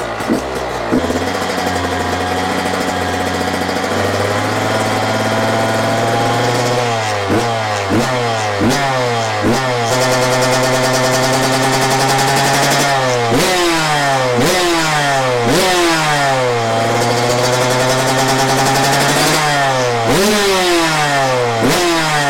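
A supermoto motorcycle engine freshly fitted with an Athena piston kit runs loud and close, idling between repeated sharp revs that climb and fall throughout. Nobody speaks.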